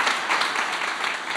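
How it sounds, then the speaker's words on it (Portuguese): An audience applauds at a talk, a dense, steady burst of clapping close by and fairly loud that fills the short moment with no break. "Uma salva de palmas."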